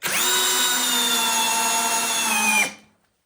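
An Eltos DA-16 BL brushless cordless screwdriver runs at its second speed, a loud steady high-pitched motor whine that holds evenly close by for a few seconds, then stops abruptly and spins down to silence.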